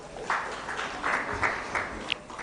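Attendees at a World Tourism Day 2021 event clap for themselves, a short, moderately loud round of applause with a few distinct claps standing out.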